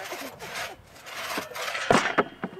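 A hand saw cuts through wood at a college logging-team competition, giving rhythmic rasping strokes that grow louder and sharper toward the end, with faint background voices.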